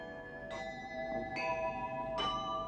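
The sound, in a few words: temple bell ringing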